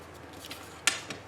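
Scissors trim a sheet of paper for an altered book page, giving one crisp, close snip in an otherwise quiet room with light handling rustle around it.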